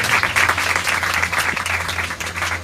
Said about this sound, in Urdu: بیٹھ کے ہم زوردار تالیاں بجا کر خدا کے نام کو شاد دیں گے